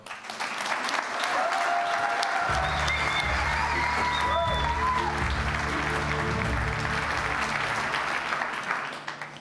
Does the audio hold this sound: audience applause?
yes